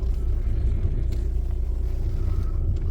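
An Audi A6 C6 TDI with a fault sits idling, its exhaust giving a steady, low, throbbing rumble close by that holds unchanged throughout with no other sounds over it.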